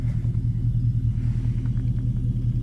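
A Ford Crown Victoria engine idles with a steady low rumble inside the car, its exhaust partly entering the cabin, holding an even, continuous drone throughout.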